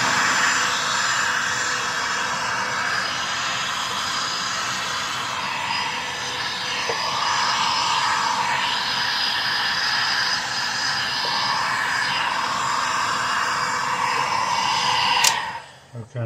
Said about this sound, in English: First, I think I'm going to really hit it with the blower.